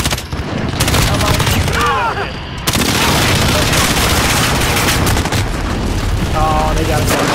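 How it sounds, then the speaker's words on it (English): A precision airstrike in Call of Duty Modern Warfare multiplayer on a small, cramped map: loud, dense rolling barrages of blasts and gunfire overlapping continuously, with sharp new bursts hitting partway through and a player's voice talking over the din. "Allied precision airstrike in."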